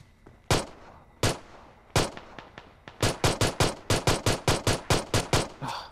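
SKS semi-automatic rifle firing in PUBG Mobile: a few spaced single shots, then a rapid, evenly paced string of about a dozen sharp cracks, loud and close with no talking over them.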